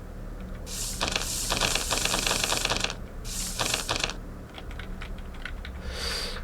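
Fast clicking of keys on an electric lock keypad in a horror game, two bursts of rapid taps followed by a few scattered presses, close and fairly loud.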